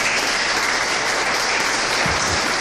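Church congregation applauding a pastor during a sermon, a dense, steady wash of clapping sustained throughout at even loudness with no voices over it.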